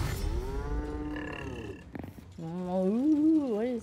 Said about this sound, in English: why does it sound like a cow?